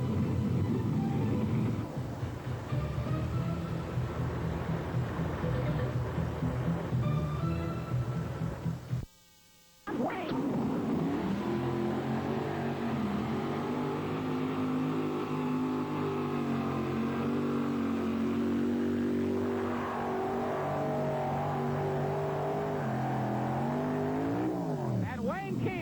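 A 9,000-pound modified tractor roars continuously and loudly at an NTPA pull in Atco, New Jersey, its engine pitch shifting as it drives down the track, while an announcer talks over it throughout.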